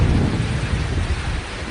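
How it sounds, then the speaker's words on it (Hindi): Heavy rain and wind from Cyclone Nisarga in Maharashtra form a loud, dense, unbroken roar with a deep rumbling low end, steady throughout the short stretch. "बारिश के साथ तूफान का शोर बेहद डरावना है।"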